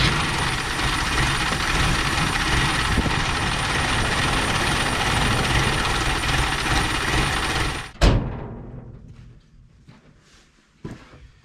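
An old Dodge Ram mini truck engine runs with a steady, loud mechanical roar for about eight seconds, then cuts off abruptly, leaving quiet clanks and a single later knock.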